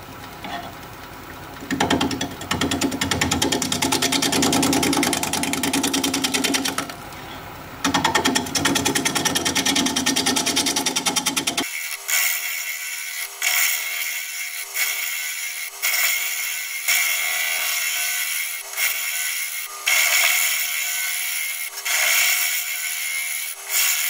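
A chisel cuts black walnut turning on a wood lathe, a loud continuous rough grinding with bouncing chatter at an uneven bottom, changing abruptly midway to a thinner, rapidly pulsing scraping that continues to the end.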